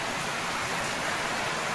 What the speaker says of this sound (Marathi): हे बघा झाला पाऊस चालू